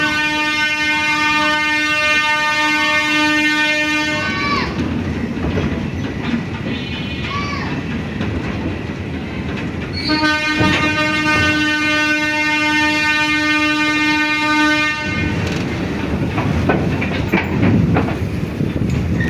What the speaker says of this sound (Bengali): আর ওই যে লোকোমোটিভ।